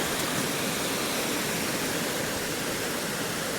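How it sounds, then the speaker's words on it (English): Loud, steady rush of water pouring over a weir into a pool on a grayling river in winter, a dense continuous roar with no pauses, close and alone. "the noise of the water here is going to be quite loud, so hopefully you can still hear me above the racket of the weir pool."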